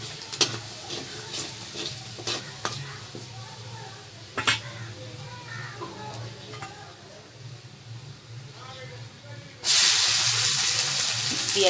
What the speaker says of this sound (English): So first we are going to add the chopped garlic. This is the same oil in which we have fried the fish.